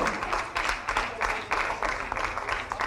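An audience at a government ceremony for athletes gives rhythmic, fairly distant applause for a wushu player from Ranchi, the clapping swelling in regular bursts.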